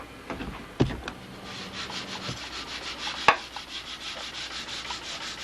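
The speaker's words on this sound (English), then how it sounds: "This is where it's really handy to have a nice long sanding block" Hand sanding of a CA-glued joint on a model aircraft with a long sanding block, soft rhythmic rubbing strokes close by, with a couple of sharp knocks.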